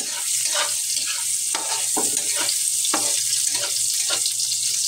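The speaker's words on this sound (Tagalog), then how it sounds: "I-translucent lang natin yung mga bawang at saka ang sibuyas." Garlic and onions sizzle steadily in a hot pan for adobo, loud and close, with a few scraping stirs breaking through the constant frying hiss and no voices.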